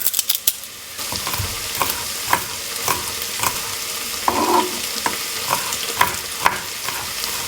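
Minced garlic and vegetables fry in a good amount of oil in a pan, with a continuous close sizzle and regular scraping stirs of a utensil throughout, no voices.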